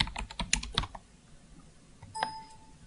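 Quick bursts of clicking keystrokes on a computer keyboard, a close rapid flurry followed by a pause, then a few more taps and a short electronic ding.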